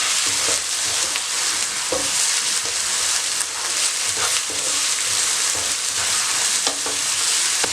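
Dense, loud sizzling of garlic paste frying in a pan continuously, with occasional clinks and scrapes of a spoon stirring; no voices.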